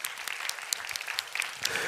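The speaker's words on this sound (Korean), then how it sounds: "서로를 위해서 박수 한번 칠까요?" Congregation in a church clapping for one another, a steady close wash of applause with a few sharper individual claps, no talking over it.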